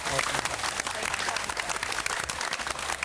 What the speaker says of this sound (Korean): 우리 목사님께 다시 한번 큰 박수 부탁드릴게요